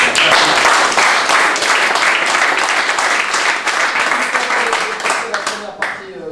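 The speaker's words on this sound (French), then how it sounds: "Eh bien, applaudissements." Loud, sustained applause from a large crowd, dense clapping that continues throughout before tapering at the end.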